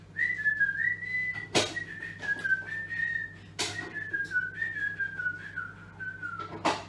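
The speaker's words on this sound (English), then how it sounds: "I'll whistle while I work, shall I?" A person whistles a wandering, slightly wavering tune alone in a kitchen while tidying up after baking, with a few sharp clatters and knocks from putting things away breaking in between the notes.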